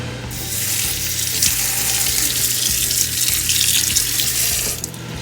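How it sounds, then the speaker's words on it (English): Cold tap water runs in a loud, steady stream over baby bok choy, rinsing it up close at the sink with no talking. "And then we're going to rinse it with cold water."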